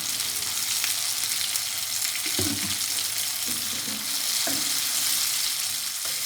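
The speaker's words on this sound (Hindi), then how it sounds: "मैं इसमें अब डालूंगी टमाटर का पेस्ट" Homemade tomato paste from three small tomatoes sizzles as it fries in a pan, a steady close crackle broken by several stirring scrapes and clatters, no voices.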